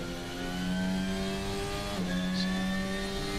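A Formula 1 car in a racing video game holds a steady high revving engine note, dips briefly as it shifts, then climbs again, loud and continuous.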